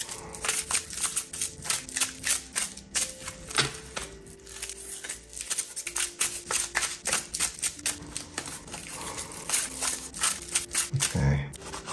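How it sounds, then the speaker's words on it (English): Tarot cards are shuffled by hand in a series of quick, crisp riffling and slapping bursts at close range, with soft background music beneath. "let's just keep shuffling because they're just jumping out today"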